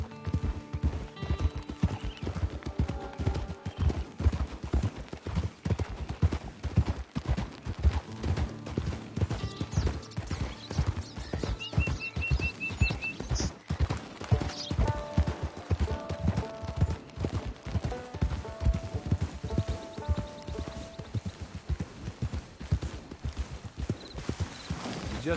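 Horse hooves in the video game Red Dead Redemption II clip-clop in a steady walking rhythm on a trail, close and continuous, with occasional snorts and a whinny among faint ambient game sounds.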